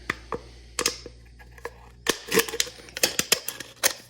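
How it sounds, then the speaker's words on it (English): Scissors snip into an aluminum drink can for a penny can alcohol stove, producing close, sharp crunching clicks and metallic crackles in irregular bursts, busier in the second half. "we're just going to poke a little hole in the can so I can get my scissors in there"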